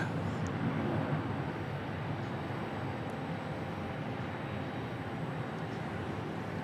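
Southwest Airlines Boeing 737 MAX 8 arriving at Dallas Love Field, a steady loud broadband jet roar that holds evenly throughout with no distinct peaks, close and continuous.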